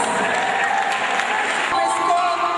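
A school crowd at a Founders Day 2014 ceremony applauds Faith Academy, placed second with 91 points; a continuous wash of clapping runs throughout, with voices mixed in underneath.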